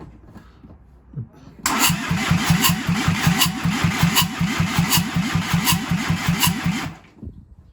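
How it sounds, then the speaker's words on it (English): Seat Arosa 1.9 TDI diesel engine cranking and firing up with no exhaust or inlet manifolds fitted, settling into a loud, harsh, rapid rhythmic clatter close by for about five seconds before cutting off. "It doesn't have exhaust manifold or inlet manifold, that's why it's making this noise."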